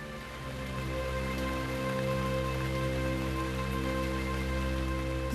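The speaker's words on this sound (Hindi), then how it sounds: "बारिश शुरू हो गई है।" Rain falls steadily in a drama scene, a constant broadband hiss of drops that swells in over the first second and holds evenly, with sustained tonal hum layered underneath.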